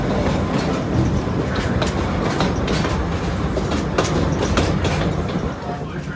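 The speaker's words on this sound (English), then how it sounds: "The train accelerates to quite high speeds as it heads past the tracks" A zoo and amusement park train runs on its tracks at speed past a roller coaster, with steady rolling rumble and rhythmic clickety-clack of wheels over rail joints, fairly close and continuous.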